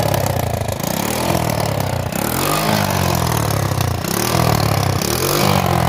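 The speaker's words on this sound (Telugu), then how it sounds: "బండి స్టార్ట్ చేసిన తర్వాత సౌండ్ ఎట్లా వస్తుందో ఒకసారి అయితే చూడండి" A motorcycle engine idles steadily through its silencer, its low exhaust putter pulsing with a few slight revs, loud and close with no talking.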